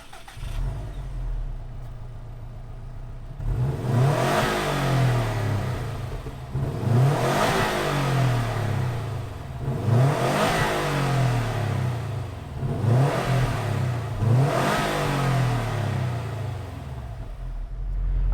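A 2019 Subaru WRX STI S209 engine cranks and fires up, then revs hard several times in a row, each rev rising and falling back, loud and close.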